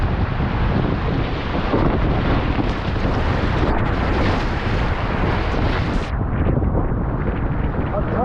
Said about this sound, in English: There's a bit of wind now.